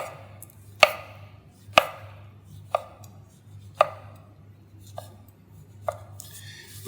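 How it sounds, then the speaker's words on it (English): Knife slicing mushrooms on a cutting board, six sharp chops at a slow, even pace, each a crisp close tap against a quiet background. "So we're just going to slice a few mushrooms here."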